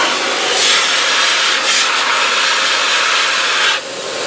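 An SKSYZN adjustable-speed pet dryer blows at high speed, a loud, steady rushing hiss that holds for several seconds and then eases slightly near the end.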